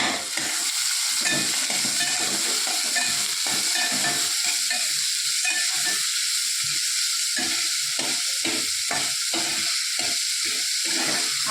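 Chopped onion frying in hot oil for a chicken tempering, a loud, continuous close sizzle and hiss that holds steady throughout, with faint stirring underneath.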